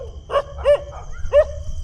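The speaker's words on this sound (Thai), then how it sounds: "หมาเห่ากันเกลียวเลยครับ" Several dogs bark in short, sharp yelps, three distinct barks at a roadside stop in Kanchanaburi, Thailand, over a low steady background rumble.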